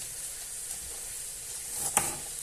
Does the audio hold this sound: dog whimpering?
no